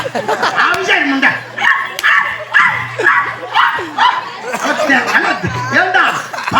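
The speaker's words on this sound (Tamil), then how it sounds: "பங்களா வீட்டுக்குள்ள ஒரு நாய் கத்துமாரு." A dog barks repeatedly in quick, rhythmic bursts, loud and close, mixed with yips and overlapping voices and laughter in a comedy scene.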